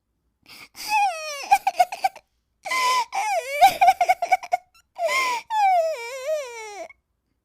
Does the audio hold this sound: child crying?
yes